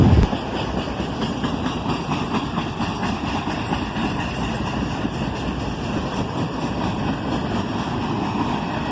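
Stopped freight train with three diesel locomotives, BC Rail, Canadian Pacific and Canadian National power, starting to move: a loud, steady engine rumble with faint rhythmic rail clatter close by.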